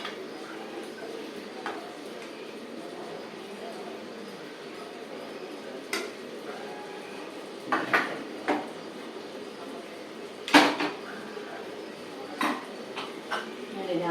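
Mint vegetable bath being moved into a serving bowl: quiet background hum broken by sporadic clinks and scrapes of a ladle against pot and bowl, a sharper knock near the end.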